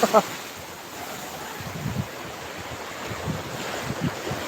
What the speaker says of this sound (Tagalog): Nasa tabi ako ng dagat, Ate Dora.